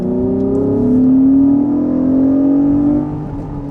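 Honda sports car engine revving hard and close, a rising, sustained high-pitched wail that holds near peak for a couple of seconds before easing off, with no talk.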